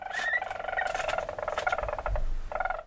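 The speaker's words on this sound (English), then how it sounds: "Weasel." A weasel gives a run of short, high squeaky chirps and chattering calls, fairly close, in quick bursts with brief gaps, over a faint low rumble.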